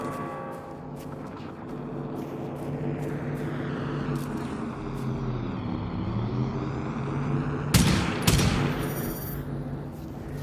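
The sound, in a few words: machine shooting at a firebird in Generation Zero video game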